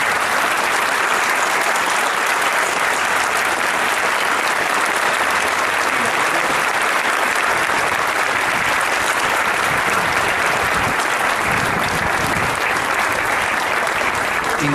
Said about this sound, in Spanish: un gran aplauso.